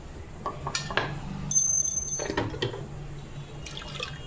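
Small metal idols clink and drop into water, with a few light splashes and drips among faint background noise.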